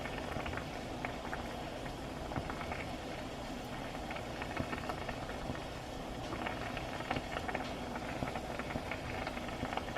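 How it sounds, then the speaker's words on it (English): Sweet potato slices boiling in a pot, a steady low bubbling and popping simmer that runs evenly and quietly throughout with no talking. "And you can hear it boiling already."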